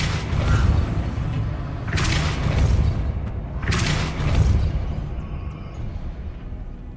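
A Depulso spell in Hogwarts Legacy sets a heavy mechanism moving: rumbling, grinding creaks with two distinct surges of scraping and thudding weight, then a fading mechanical drone.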